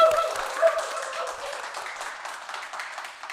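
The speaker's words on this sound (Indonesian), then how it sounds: "Tepuk tangan dulu dong." Studio audience applauding to welcome the cast of the horror film Kereta Berdarah on a talk show, a soft, steady patter of clapping from a small crowd lasting a few seconds.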